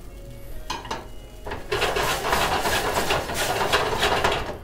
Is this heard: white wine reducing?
yes